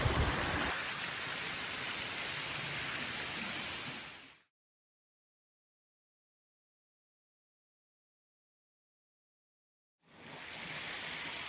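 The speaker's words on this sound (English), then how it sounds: "it's really becoming quite a small stream this far up" Small upper reach of the Albert River flowing through Lamington rainforest, a steady rushing water wash that cuts out into silence midway and returns near the end.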